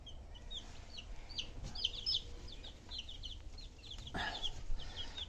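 A silver-laced Wyandotte chicken gives a run of soft, repeated clucks and short chirping calls, with other fowl faintly around it in a quiet farmyard and a few louder bursts toward the end.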